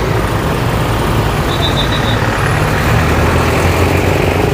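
Garbage trucks hauling rubbish at a dump east of Lempuyangan, Yogyakarta, heard as a loud, steady rumble of heavy engines nearby, with a brief hiss around the middle.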